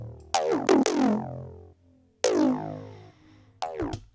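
A plain synthesized acid bass with all effects turned off plays a few short resonant, raspy notes, each starting with a sharp click and decaying quickly, with brief gaps between them.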